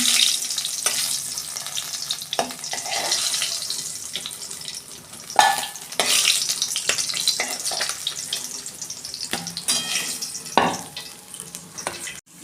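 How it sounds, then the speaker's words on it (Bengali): Tengra fish frying in oil in a pan, a steady close sizzle broken by occasional scrapes and knocks of a utensil and a few louder bursts, continuing throughout without speech. "এইভাবে আমি সব মাছগুলো ভেজে নেব।"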